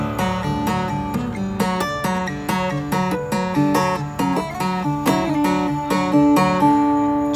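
Acoustic guitar plays the chorus of a song with slides on the second string, a steady run of plucked notes and gliding pitch changes, close and clear with no talking.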